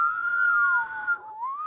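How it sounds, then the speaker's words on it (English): A person whistles on the inhale, holding one clear, steady tone that drifts slightly in pitch, dips and rises again, close and alone. "can do a little vibrato thing when you whistle with your tongue, especially on the inhale whistle"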